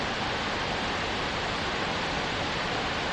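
Steady broadband rush of a waterfall in a gorge below a hiking trail at Savage Gulf State Park, Tennessee, heard as a constant, even roar with no breaks.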